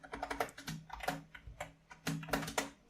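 Code being typed on a computer keyboard, a close burst of quick keystrokes in uneven clusters with brief pauses between runs, fairly quiet and with no voice.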